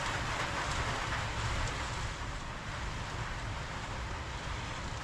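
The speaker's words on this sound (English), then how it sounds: "Sorry about the background noise, but it's raining quite heavy." Heavy rain pours down in a steady, dense hiss, loud and unbroken throughout, with no voices.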